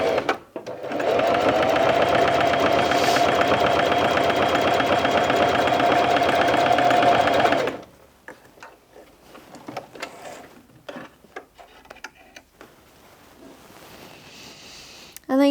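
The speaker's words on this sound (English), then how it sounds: "So I'm going to drop my needle in and make a start" A Bernette 05 Crafter sewing machine stitches in one loud, continuous run of rapid needle strokes lasting several seconds, then stops, followed by quieter fabric handling and light clicks.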